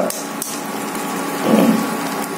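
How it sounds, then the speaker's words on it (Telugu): A single egg is cracked against a pan edge during cooking of ridge gourd egg curry, one sharp tap followed by a brief soft splatter as it drops in, close up with no talk. "ఎగ్ని అలా కొట్టి వేసేద్దాం"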